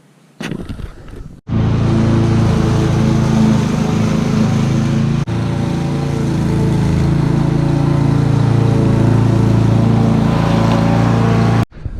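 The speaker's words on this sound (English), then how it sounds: "Gotta mow the lawn" A petrol lawn mower runs loud and close while mowing grass, a steady rough engine drone for most of the stretch, briefly dipping once and starting and stopping at the edges.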